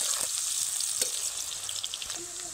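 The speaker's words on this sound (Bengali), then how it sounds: "প্রথমে তেলের ওপরে কোচানো পেঁয়াজ কয়েকটা দিয়ে দেব" Sliced onions frying in oil, a steady fine crackling sizzle close by with a few light utensil taps and stirring scrapes.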